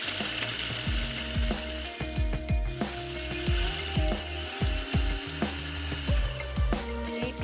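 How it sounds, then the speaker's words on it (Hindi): Biscuits are crushed for peanut butter bars: a steady run of close, gritty crunches and scraping grinds in an uneven, repeating rhythm, with no talk. "तो मैं यहाँ पर बिस्किट्स को क्रश कर लेती हूँ।"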